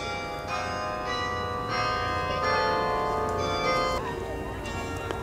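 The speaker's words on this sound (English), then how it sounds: "But what you heard is 60 bell carillon" A 60-bell carillon plays at Bok Tower Gardens in Lake Wales, Florida, striking a series of ringing bell tones one after another, each note sustaining and overlapping the next, with a steady outdoor background underneath.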